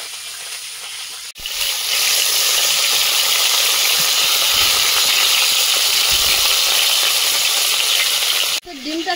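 Leafy bete greens hit a hot pan and erupt into a loud, sustained sizzling hiss that starts abruptly and holds steady close up before stopping.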